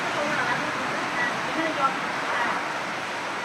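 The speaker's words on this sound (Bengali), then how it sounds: "প্রচুর বৃষ্টি, প্রচুর" Heavy rain pours steadily during a storm with strong gusting wind, a dense continuous roar with no pauses, loud and close throughout.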